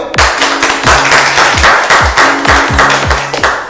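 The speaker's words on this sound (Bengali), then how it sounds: "হাততালি দাও সবাই।" A group of people clapping at a prize-giving, a loud, uneven run of hand claps mixed with dull thumps that lasts throughout.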